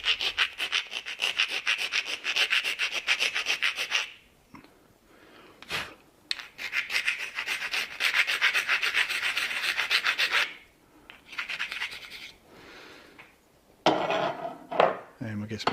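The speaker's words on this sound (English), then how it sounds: "It's got a round file." A round file roughens a GoPro helmet chin mount in long, rhythmic rasping strokes, close up, broken by short pauses and a few knocks and scrapes of handling.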